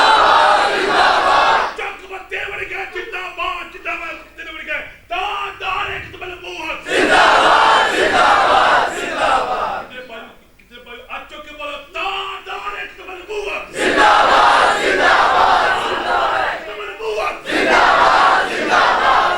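A crowd at a religious gathering chants the Khatm-e-Nabuwwat slogan in loud, repeated bursts of massed voices, each swelling and then falling away in turn.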